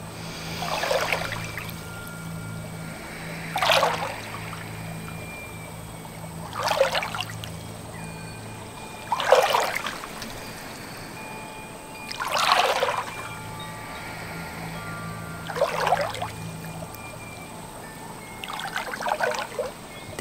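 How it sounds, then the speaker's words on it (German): Hands stirring and swishing through water, making soft splashy surges that repeat roughly every three seconds over a quiet background, with no talking. "Der Flick bewegt seine Hände im Wasser."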